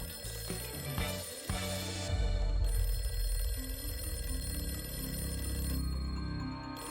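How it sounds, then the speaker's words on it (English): A telephone bell rings repeatedly in a room, loud and continuous under a dense layer of background music and ambient noise, with no voices. "The phone rings."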